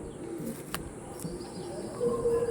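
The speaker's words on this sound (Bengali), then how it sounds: "এখন পিওর লাল শিরা পায়রা" A soft, low coo from a pure red shira pigeon rises near the end, over a noisy background with a couple of brief clicks.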